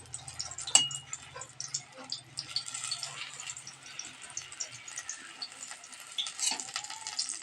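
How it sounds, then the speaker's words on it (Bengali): Pumpkin pieces fry in hot oil in a covered pan, a steady soft sizzle with occasional stirring clatter and a brief sharp clink near the start, fairly quiet throughout. "আমরা ঢেকে ভেজে নিচ্ছি"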